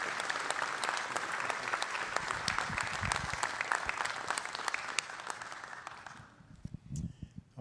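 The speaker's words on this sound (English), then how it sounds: "That's a good time to give applause right there" Sustained crowd applause at a trophy presentation during a competition for emergency medical teams, dense and steady for several seconds before fading out, followed by a few low thumps and scattered noises.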